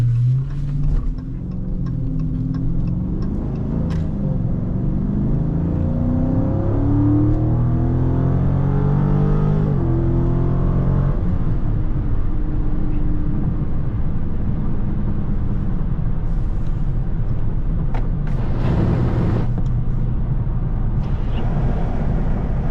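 A crashed Last Call Scat Pack muscle car, driven with traction control off, revs up loudly and its engine pitch rises and falls as it accelerates, then settles into a steady heavy rumble close up.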